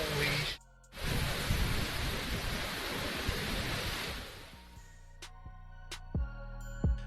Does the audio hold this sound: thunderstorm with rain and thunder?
yes